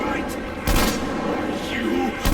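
Gunfire in the shooter Metro Exodus, a few loud booming shots spaced apart over a steady background, with game voices talking over it.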